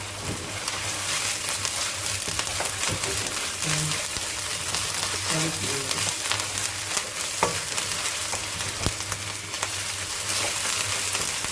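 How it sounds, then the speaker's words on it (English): Ginger garlic paste frying in a pan, with a steady close sizzle and crackle, a low hum underneath, and occasional scrapes from stirring. "So we basically just frying it up"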